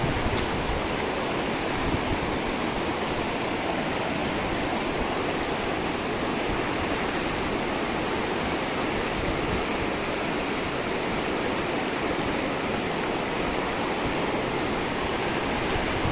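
Water rushes steadily along the Purna river near a bridge during a fishing outing, a dense, close, continuous roar that holds at one level throughout with no voices.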